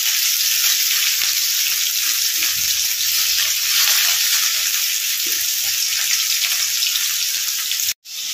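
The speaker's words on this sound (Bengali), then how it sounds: "অল্প তেলে পকোড়া। তো চলো এগুলো ভেজে নিই এক এক করে।" Chicken pakoras deep-frying in a small amount of oil, a steady loud bright sizzle that continues without pause before cutting off abruptly near the end.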